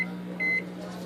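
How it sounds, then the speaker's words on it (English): A microwave oven hums steadily as it cooks homemade potato chips, with a short electronic tone partway through, close and moderately loud. "this is where you put the potato chips in the microwave"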